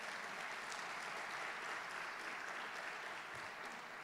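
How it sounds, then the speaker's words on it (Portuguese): A church congregation claps for Jesus during a sermon, a steady wash of many hands applauding together, faint and distant, without a break. "Dá um aplauso para Jesus bem forte."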